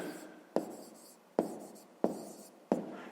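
Pen writing on paper during a fifth-grade math exercise, four sharp taps or strokes at roughly even intervals, each trailing off quickly, quiet and close.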